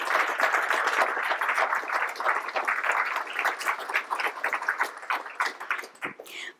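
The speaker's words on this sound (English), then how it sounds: "So should we give her a round of applause?" An audience applauds: dense, steady clapping from many hands fills the room at close range, sustained for several seconds before thinning out and trailing off at the end.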